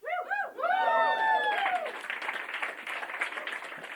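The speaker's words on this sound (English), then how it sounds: "Yeah, clap now" Audience applause at a talk on pro-Palestine labour organizing, a crowd clapping and cheering that swells after loud voices at the start and continues steadily.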